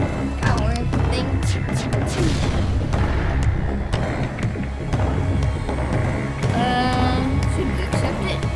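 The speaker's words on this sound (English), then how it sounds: "Missile thing can shoot through the shields, so I can just shoot through the shields." Missiles fire through enemy shields in the starship strategy game FTL, giving repeated heavy booms and thuds with electronic whooshes, loud and dense, with a voice talking over parts of it.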